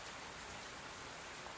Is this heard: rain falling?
yes